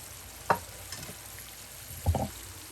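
Fried fish kofta and kebabs dropped into a simmering curry, with two brief plopping splashes followed by a faint sizzle and quiet stirring.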